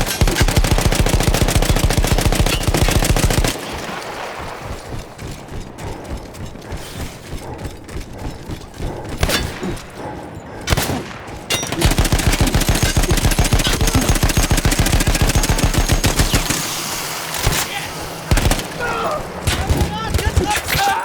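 Sustained machine gun fire in Battlefield 1 from an emplaced gun once manned by Austro-Hungarian troops: long, loud, rapid bursts with a mechanical rattle, broken by a quieter stretch of scattered shots, all under talk.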